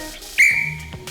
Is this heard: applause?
no